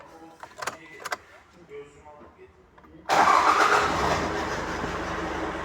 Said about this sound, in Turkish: Arabada tek marş çalıştı Allah'ın izniyle.